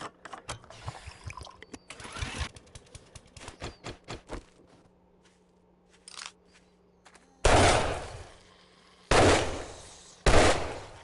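Bursts of gunfire from the video game 7 Days to Die: a quick run of rapid sharp shots early on, then scattered single shots and three loud, heavy blasts near the end, close and dominant with no talk.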